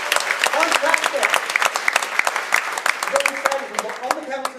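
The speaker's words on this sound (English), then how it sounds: "Give him a round of applause to go back to the audience" An audience applauds a participant returning to their seat during a stage mentalism show, steady dense clapping with a few louder individual claps and faint voices mixed in.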